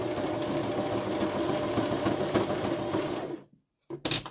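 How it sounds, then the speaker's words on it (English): A sewing machine runs a quick zigzag stitch on a book cover, its rapid mechanical chatter close and steady for several seconds, then stops briefly before short bursts of stitching resume. "I'm doing a little zigzag."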